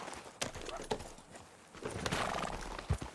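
A horse gallops in the video game Red Dead Redemption 2, its hooves clip-clopping in an uneven rhythm with a whinny partway through.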